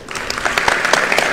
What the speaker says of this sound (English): give the guest speakers that just spoke another round of applause, please